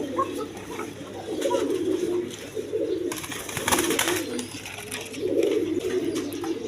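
Pigeons kept in pairs for sale coo repeatedly in low, throaty rolls, close and fairly loud, with a few chirps and a faint voice in the background.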